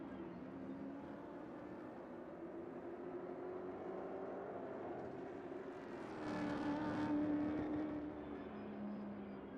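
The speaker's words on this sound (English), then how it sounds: "Charger appears to be absolutely stuck there on idle at 1600 RPM" A steady engine idle from the big Aquila CR1 race car in the RaceRoom sim, parked at the side of the Shavelak circuit and stuck at 1600 RPM, a constant droning hum that swells briefly louder partway through.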